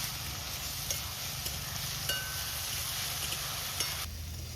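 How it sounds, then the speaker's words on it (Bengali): Ginger-garlic paste, tomato and green chilies frying in a pan at an outdoor forest picnic cook-up, a continuous close sizzle with occasional faint stirring scrapes and clicks. "আজকে আমি আদা বাটা, রসুন বাটা, টমেটো আর কাঁচা লঙ্কা পরে দিচ্ছি"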